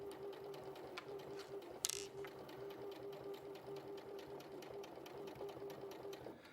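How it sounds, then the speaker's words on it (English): A domestic sewing machine stitching steadily indoors, a continuous close, even mechanical whir with a sharp click about two seconds in, running alone without talk. "So you get attuned to your sewing machine, don't you? Yes, you can just hear."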